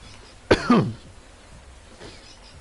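A single close cough lands hard near the microphone, a short harsh burst followed by a rougher second push, then fades into quiet room tone with a faint trailing breath.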